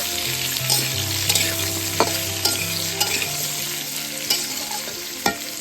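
A spoon stirs mango chutney in a hot pan, with a steady sizzle and intermittent scraping clinks against the metal, close up and with no talking.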